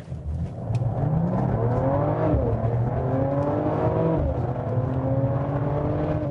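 Mercedes-AMG CLS53 with a turbocharged six-cylinder engine and 48V electric turbo, accelerating hard from inside the car, engine note rising in steady climbing pitch sweeps through the gears, continuous and fairly loud with no voices.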